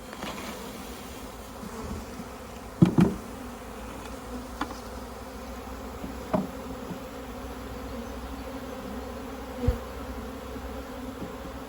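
Continuous hum of a honeybee swarm buzzing together, with a few individual bees zipping past close by now and then.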